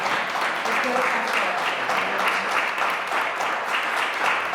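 Steady applause from a studio audience for two fashion personalities, continuous clapping at an even level with a voice talking over part of it.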